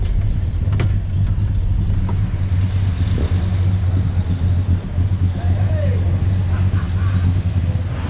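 A 4-speed Plymouth Superbird driven slowly at a muscle car show, its engine a low, steady nearby rumble with a few faint knocks and voices talking over it.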